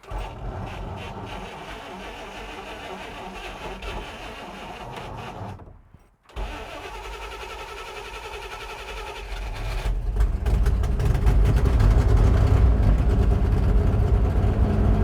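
A 1960 El Camino that had not run since 1998 rumbles as its engine runs in first gear, a steady close drone that briefly cuts out and then swells louder and deeper toward the end.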